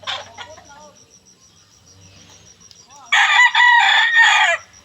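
A hybrid fighting rooster bred for cockfighting derbies gives one loud, close crow near the end, after a stretch of softer background clucks, insect buzz and faint voices on a farm.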